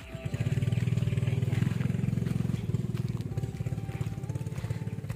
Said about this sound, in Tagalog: May motor pa nga banda dun